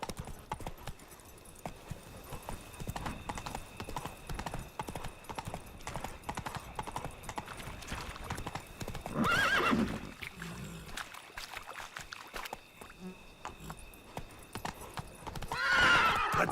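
A horse in The Witcher 3 video game moving at pace, with rhythmic hoofbeats running under other game sounds and two louder neighs or whinnies.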